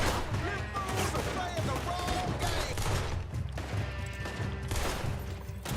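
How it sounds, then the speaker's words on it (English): Overlapping gunshots crack back and forth in a Red Dead Redemption 2 shootout, dense and fairly close, layered under game voices and other noise. "Wait, he's shooting at me right there."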